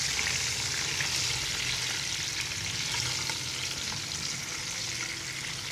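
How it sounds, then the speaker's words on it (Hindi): Eggs frying in a pan with Kashmiri chili for an egg and spinach dish give a steady, close sizzle with faint stirring, continuous and even throughout with no talking. "हम इस कश्मीरी मिर्च से अंडों को थोड़ा सा फ्राई करेंगे।"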